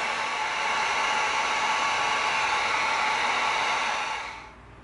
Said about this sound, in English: now we're gonna come in with our heat gun